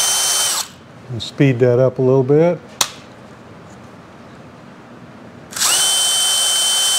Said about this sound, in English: I'm gonna start out with I think this is about an 1/8-inch drill